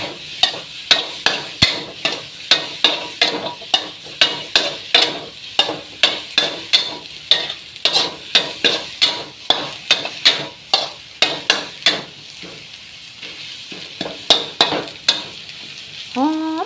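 Fermented shrimp stir-fried with seasonings for an Isan dish, a continuous close sizzle punctuated by rapid rhythmic knocks of a spatula against the pan, loud and steady throughout.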